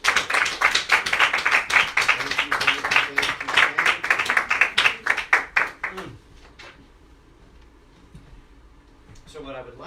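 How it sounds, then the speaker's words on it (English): Congregation applause at a Sunday church service, dense steady clapping from many hands for about six seconds, then dying away into quiet room tone with a faint sound near the end. "So let's give them a round of applause."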